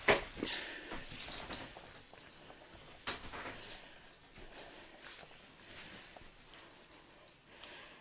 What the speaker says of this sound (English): We're getting a little help from the royal dog here.